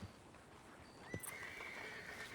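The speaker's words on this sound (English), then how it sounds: "That's a nice horse." A horse in the Western game RedM gives one rising, drawn-out whinny that trails off, heard at moderate loudness over a soft ambient background with no talking.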